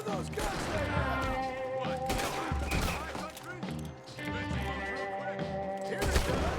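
Bursts of gunfire from a Red Dead Redemption 2 shootout crackle in rapid volleys under voices and in-game music, loud and fairly close throughout.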